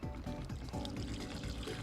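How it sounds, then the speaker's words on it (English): Vermouth and vodka poured together into a fish marinade for cedar-planked grilled salmon, a steady close liquid splash and trickle lasting the whole moment without talk. "Vermouth and vodka. Pour them in at the same time."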